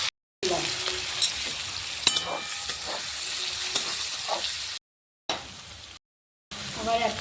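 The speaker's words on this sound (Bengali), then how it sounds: "তেলটা গরম হয়ে গেছে, আমি লঙ্কা দিয়ে দিলাম।" Chilies sizzling and crackling in hot oil for Kashmiri chicken, a steady loud fry with stirring clinks and scrapes, briefly cut off twice by short silent gaps.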